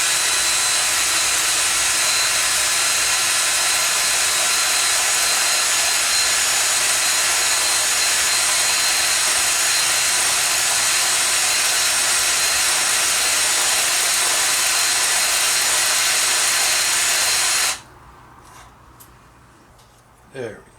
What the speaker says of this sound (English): It's a small diameter brake hone. We'll go down to 1/2 inch to hone out this hole.